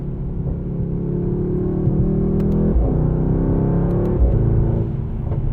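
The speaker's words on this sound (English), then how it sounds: "Doing some hard accelerating and braking now to" A 2020 Mercedes-AMG GT 63 S under hard acceleration and braking, its engine a loud, steady, deep drone from inside the cabin, with pitch sweeps and two quick breaks where gears change.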